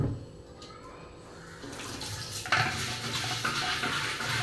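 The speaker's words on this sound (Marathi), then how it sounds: "आतमधून धुणार आहोत असं स्वच्छ" The inside of an old clay water pot is scrubbed by hand with salt, giving a gritty rubbing and sloshing water sound, close and steady, growing slightly louder partway through.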